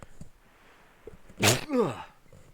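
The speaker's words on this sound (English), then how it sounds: "Sorry, I had to sneeze there." A single sharp sneeze bursts out near the mic, a quick intake followed by the explosive release and a brief trailing exhale, over a quiet background.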